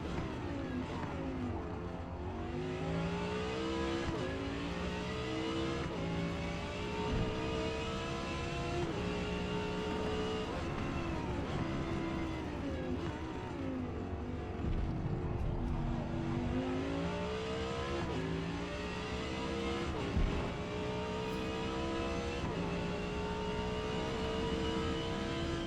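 Audi R8 LMS race car engine in Forza Motorsport R class at Daytona Speedway, a loud continuous engine note rising and falling through repeated gear changes and revs for the whole stretch, with no talking.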